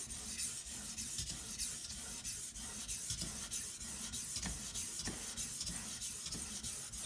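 Chef's knife sharpened on an Edge Pro sharpener with light pressure, a continuous close rasping rub of stone on steel in quick repeated back-and-forth strokes.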